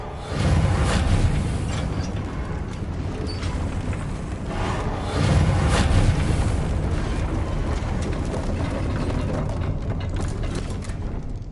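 Incendio and Reparo spell effects in a Hogwarts video game: a dense, loud rush of crackling, grinding magical noise with two swelling surges, running continuously with no voices over it.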